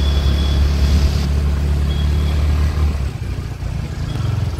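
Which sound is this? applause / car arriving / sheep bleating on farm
car arriving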